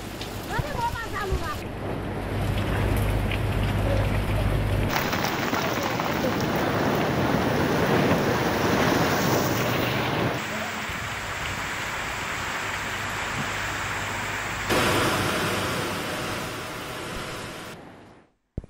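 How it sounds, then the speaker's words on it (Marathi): Heavy unseasonal rain with hail and wind pounds down in rural Maharashtra, a loud, dense, steady hiss with gusty roaring, cut between several shots and ending abruptly. "तालुक्यामध्ये अवकाळी पावसासह गारपीट झाली आहे"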